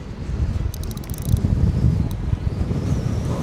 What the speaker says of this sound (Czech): Ten vítr tady, to je masakr.